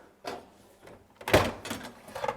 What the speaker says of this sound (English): You just open up the little door here to the boiling chamber